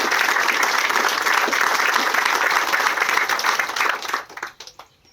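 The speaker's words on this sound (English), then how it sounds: "Let's give them a round of applause, too," Audience applause at a remembrance ceremony for a Marine gunnery sergeant: dense, steady clapping from a crowd that holds for about four seconds, then tapers off into a few scattered claps and fades out.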